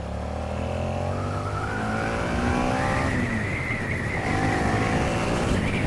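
A car engine revs hard and climbs through the gears, pitch rising and dropping at each shift, loud and continuous, up to about sixty miles an hour.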